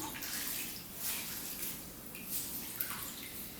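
A wet towel is wrung out over a bowl of water, giving soft, close trickling and splashing of water falling back into the bowl, fairly quiet and without talk.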